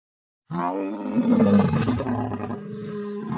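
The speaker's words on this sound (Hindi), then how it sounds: "ये तो शेर के दहाड़ने की आवाज है।" A lion's deep roar erupts after a moment of silence, loud and rumbling, trailing into lower growling groans.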